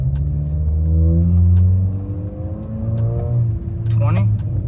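A 2018-2022 Honda Accord Sport pulling out and accelerating onto a highway, engine note climbing in rising sweeps through the gears from inside the cabin, loud and close, with a driver talking over it.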